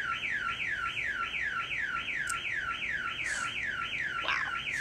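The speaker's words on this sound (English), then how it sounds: "We had a car alarm go off" A car alarm wails nearby with a steady, repeating up-and-down siren sweep, cycling evenly throughout at moderate volume, with a few faint clicks and thumps in the background.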